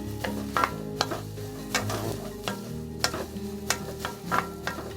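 Ingredients stirred and sizzling in an oiled pan for spaghetti sauce with garlic, green pepper and onion: a steady frying hiss with repeated sharp scrapes of a utensil across the pan, close and clear.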